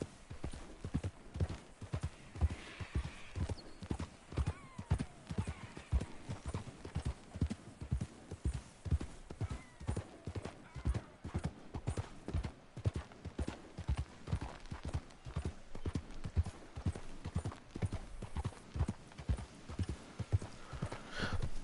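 Horse hooves clip-clop in a steady, continuous rhythm while riding in Red Dead Redemption 2, a close, evenly paced trot that runs the whole time with no talk over it.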